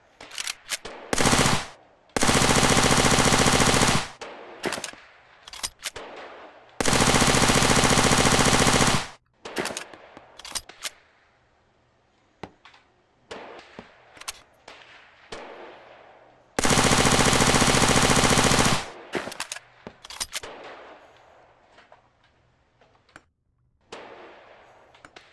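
MP7 submachine gun fired in the VR shooting game Gun Club VR: three long, loud sustained full-auto bursts of rapid continuous shots, separated by quieter stretches of handling clicks and clatter.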